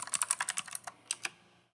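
Rapid clicking keystrokes on a computer keyboard, about a dozen crisp close taps in quick rhythm, then two more spaced clicks before silence.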